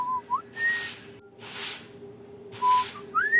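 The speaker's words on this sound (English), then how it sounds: "The whistling was clear as day now, right in front of me." Thin tonal whistles rise and slide in short phrases, alternating with bursts of breathy hissing like sweeping, fairly close and steady.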